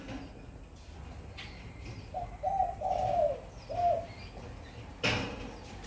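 A tame spotted dove or turtle dove cooing on an afternoon, several clear rounded coos in a short phrase over a soft outdoor background, ending with a brief rustle or flutter.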